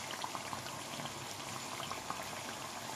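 Eggplant sticks deep-frying in oil turned up to maximum heat, a steady dense bubbling hiss with scattered crackles and pops, close and continuous with no talk.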